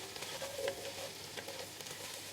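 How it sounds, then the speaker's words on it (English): Garlic sizzles in a hot pan as it is stirred, a steady low crackle with a few soft scrapes, fairly quiet and with no one talking. "put the garlic in. And we will let that stir and cook for just a couple of minutes here"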